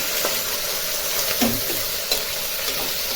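Potato and tomato stirred in a cooking pot while making khichdi: a steady low sizzle runs throughout, with a few soft scraping stirs at the pan, close and fairly quiet.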